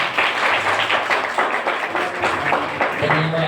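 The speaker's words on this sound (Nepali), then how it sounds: "ताली तो बजाओ" An audience at a Good Friday gathering claps in a short burst of steady applause, with a voice speaking faintly alongside.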